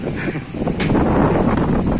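Strong wind buffets the microphone in a continuous, loud rumbling roar that surges and gusts throughout.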